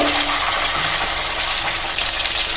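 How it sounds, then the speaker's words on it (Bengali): Ground tomato paste frying in hot oil in a home kitchen pan, a loud steady sizzle with crackling that holds for a few seconds, no voices over it. "এই তেলের মধ্যে আমি টমেটোটা এবার দিয়ে দেব"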